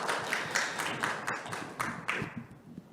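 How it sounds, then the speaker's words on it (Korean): Applause from a seminar audience right after a presentation on flower jewelry preference research, a dense patter of many hands clapping at moderate distance, swelling in bursts before thinning out at the end. "박수 칠러 한번 확실하게 쳐주십시오"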